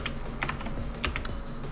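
Quick, crisp keystrokes on a computer keyboard, a short burst of close taps at a brisk uneven pace over faint background noise with no talking.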